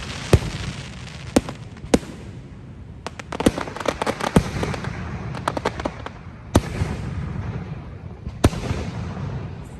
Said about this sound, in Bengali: ফায়ার ওয়ার্কস শুরু হয়ে গিয়েছে।